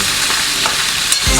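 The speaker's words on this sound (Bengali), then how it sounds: "দেখো মাছের মাথাগুলো আমার লাল লাল করে ভাজা হয়ে গেছে" Catla fish heads fry in a pan of oil with a loud, dense, continuous sizzle, and a brief stirring scrape comes just at the end.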